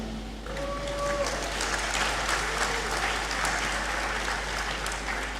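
An audience in a great hall at a university graduation ceremony breaks into applause, a steady roar of many hands that swells after a brief lead-in and carries on evenly to the end.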